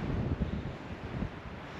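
Wind buffets the microphone in low, rumbling gusts, a steady blustery roar with no voices.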